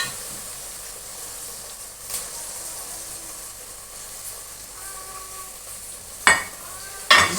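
Mutton with nalli bones and softened onions frying in a pot, a steady low sizzle with a couple of sharp spoon or lid clatters near the end.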